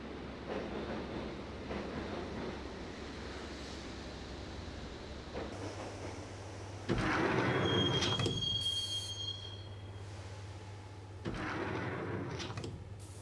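In the Max Payne video game, a subway train rolls along with a steady rumbling clatter, then wheels squeal loudly in drawn-out bursts as it rides, with metallic screeches rising over the constant rail noise.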